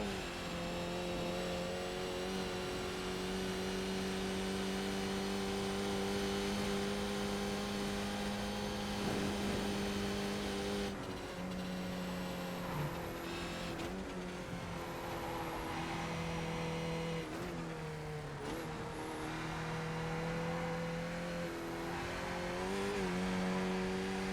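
A Skip Barber Formula 2000 race car's engine drones loud and steady on track, its pitch rising and falling through throttle changes with a brief dip around midway, close and continuous, no voices.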